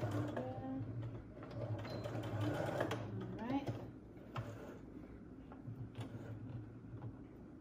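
A sewing machine stitches a homemade cloth face mask in short, quiet, close runs of mechanical clatter, with a faint low hum underneath.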